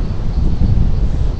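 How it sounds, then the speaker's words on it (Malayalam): Strong wind sweeps across a campsite after rain, producing a brief, loud, rough rumble and buffeting against the microphone that lasts under two seconds, with no voices. "ഇപ്പോൾ മഴയൊക്കെ ഒന്ന് മാറി നല്ല കാറ്റേ"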